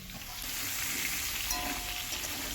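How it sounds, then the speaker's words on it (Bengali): Papaya and potato frying in oil in a karahi after tempering, with a steady broadband sizzle and faint stirring scrapes, moderately quiet and continuous with no voices. "কড়াই আমি তেল দিয়েছি দিয়ে ফোড়ন দিয়েছি আর পেঁপে আলু তেলের মধ্যে তুলে দিয়েছি দিয়ে একটু নাড়াচাড়া করে"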